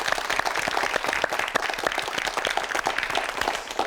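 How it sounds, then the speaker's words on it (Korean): Studio audience applause for two guests on a Korean TV quiz show, a dense steady burst of many hands clapping that fills the room for a few seconds without talk. "두 분께 박수 보내드립니다"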